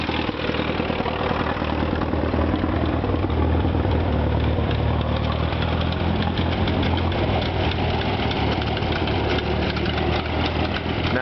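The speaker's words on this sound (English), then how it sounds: "the workers are getting all of the tractors fired up and checked out, there's a Model D case tractor" A Case Model D tractor engine runs at an estate tractor auction, a loud steady idle with dense rhythmic knocking and chugging that continues close and unbroken throughout, with no talk over it.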